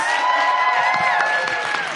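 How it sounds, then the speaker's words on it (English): A live podcast audience cheers and whoops for the guests, a dense steady wash of crowd noise with a few high shouts over it, sustained throughout. "Ladies and gentlemen, give a big round of applause to our guests."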